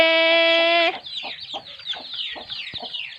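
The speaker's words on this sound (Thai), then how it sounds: "ลูกไก่จอมป่วน จิบจิบจอมป่วน" A rising synthetic tone cuts off into a series of quick chirpy clucks and peeps, close and lively, repeating irregularly.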